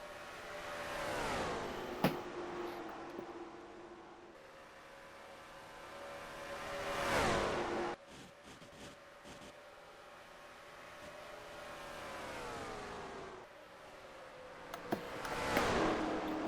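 Stock cars race in a video game at Darlington Raceway, South Carolina, a Dodge Charger 500 series field. Several engines roar past in turn, their whine rising and falling with each pass. No voices.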